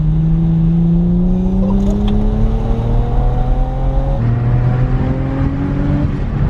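Engine of a rare six-speed manual Mercedes C300 revving up during a heel-toe downshift, a loud, close drone climbing steadily in pitch, then dropping briefly and rising again, with no talk over it.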